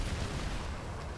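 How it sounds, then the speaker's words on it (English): Dense, continuous battle noise from the Modern Combat 5 mobile shooter, with explosions and gunfire blending into a loud, rumbling wash without distinct pauses or voices. "Explosions going off left and right"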